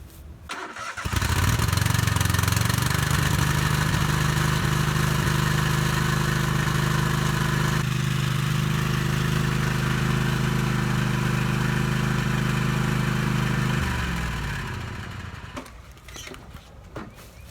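A Cub Cadet riding lawn mower engine cranks and catches at once, then settles into a steady, loud idle for about twelve seconds before shutting off and winding down.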